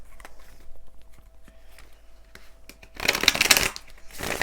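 Deviant Moon tarot cards being shuffled by hand: scattered soft taps and slides, then a dense riffling burst near the end, close and moderately loud.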